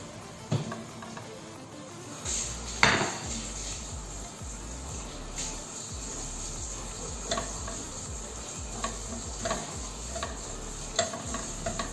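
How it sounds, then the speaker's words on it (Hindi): Chicken pieces cooking in a dry non-stick pan with no oil, for a chicken soup; a soft, steady sizzle runs throughout, broken by a few clicks and scraping stirs from a utensil, with no one speaking. "तो अब इसी में चिकन डाल देंगे।"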